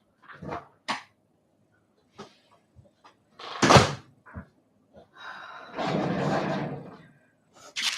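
Dogs scratch and dig at a door, giving sharp scrapes, knocks and thumps in bursts, with a longer stretch of rough scraping, close by.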